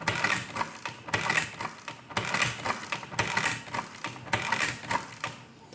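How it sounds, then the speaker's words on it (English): A Burroughs Class 3 adding machine being worked by its hand-pulled lever, a run of repeated mechanical clacks and whirring strokes as the print heads rise and the register drives, close and fairly loud. "when I pull the handle, you can see all of the print heads rise up, and the register is driven"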